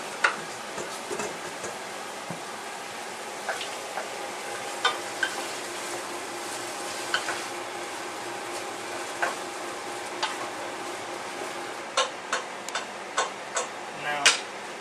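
Oxtail sears in a hot pot for oxtail stew with a steady broadband sizzle, punctuated by sharp clicks and taps of stirring, most frequent near the end, with a voice talking faintly now and then.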